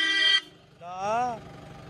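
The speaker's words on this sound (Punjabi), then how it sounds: "ਲੋ ਮਿੱਤਰੋ ਹਾਰਨ ਲਵਾ ਕੇ ਆ ਗਏ ਸੀ ਘਰੇ ਅਤੇ ਕਰੋ ਚੈੱਕ ਹਾਰਨ" A newly fitted horn on a Red Horse vehicle sounds in two short blasts, the first a bright flat tone and the second a lower, bending note, both close and loud.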